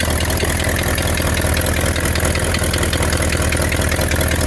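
A 1960 Ford Thunderbird engine idles steadily and loudly up close, a continuous low rumble with a slight exhaust leak hissing somewhere around the manifold.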